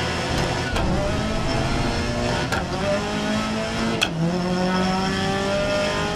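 Race car in the video game GRID (2019) driving with steady engine drone and shifting revs, with tire squeal running through the run and a couple of sharp clicks.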